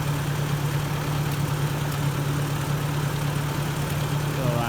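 A Ford 640 tractor with a new carburetor and a newly repaired clutch idles steadily, a close, even low hum that never changes pace, with someone talking faintly beneath it.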